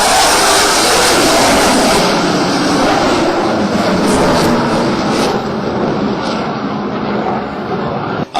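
A Rafale fighter jet roars overhead at the Aero India air show in Bengaluru, a loud, broad sustained roar that slowly thins and fades.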